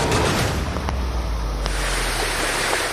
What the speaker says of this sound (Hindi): डराने लगी हैं समंदर की लहरें।